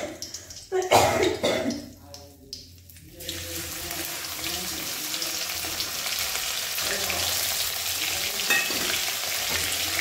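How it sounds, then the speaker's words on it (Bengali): Dried red chillies dropped into hot oil for dal, with a sharp burst of sizzling and a rustle as they go in, then a steady crackling fry that continues to the end, close by. "তো শুকনো লঙ্কাটাকে দিয়ে দিই।"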